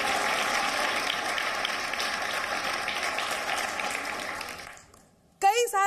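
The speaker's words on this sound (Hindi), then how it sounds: "एक बार जोरदार तालियां हमारे शो के लिए।" Studio audience applause for a Hindi television poetry-debate show, dense steady clapping for about five seconds that fades out, followed by a brief burst of speech.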